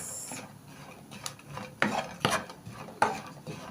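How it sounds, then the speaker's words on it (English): Coconut flakes being stirred in a pan on the stove, with several sharp scraping strokes of a utensil against the pan over a faint background, close and without talk. "So I'm going to stir it a bit more so that these ones can also brown."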